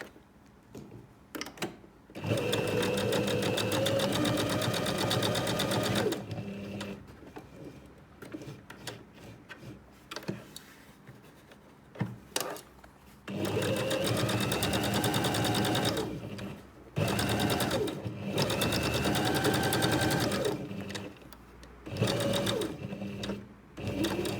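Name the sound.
sewing machine stitching an iPad mini cover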